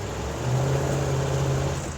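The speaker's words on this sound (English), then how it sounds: "that was one wheel peel" A 1977 Bronco spins one wheel while accelerating on grass, its engine holding a loud, steady rumbling drone that swells slightly in the middle, close by.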